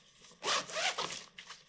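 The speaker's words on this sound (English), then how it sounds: "Zippers are decent as well." Zippers on an Osprey Pixel laptop backpack being pulled open and closed, a close, loud rasping zip lasting under a second, followed by a few shorter, quieter zip strokes.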